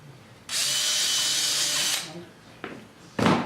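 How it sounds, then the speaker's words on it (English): A power drill bores a pilot hole into wood for dovetail joinery screws, whining loudly and steadily for about a second and a half before two shorter, sharp bursts follow close by. "take a regular drill and just drill that pilot hole as deep as you want"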